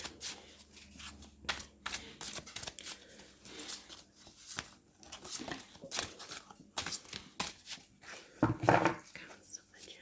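Fairy tarot cards being shuffled by hand, with irregular soft riffling and crisp card slaps repeating through the clip, close-up and fairly quiet, with faint talk in places.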